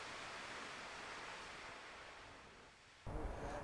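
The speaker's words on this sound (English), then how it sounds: "These are the biggest explosions we've seen in years." Explosive bursts of spatter and ash from Kīlauea's eruption in Hawaii, heard as a steady, dense roaring rumble that fades slightly and then surges into a sudden louder blast near the end.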